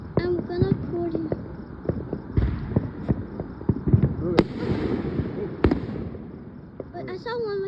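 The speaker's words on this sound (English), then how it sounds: "Where's the fireworks?" Fireworks go off in a rapid series of sharp, cracking pops and bangs, some near and loud, others more distant, with people talking throughout.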